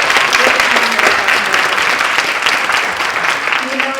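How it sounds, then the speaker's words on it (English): A full audience at a Brain Support Network community event claps steadily and densely throughout, a continuous wash of applause with a faint voice underneath. "let's give her a round of applause"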